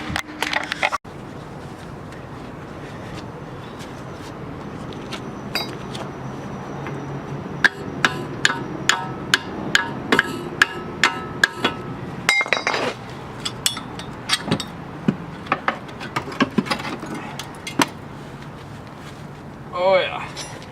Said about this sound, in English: So now I just got 3 15mm bolts to take off from the top here, and then I'm gonna pull it out from the bottom.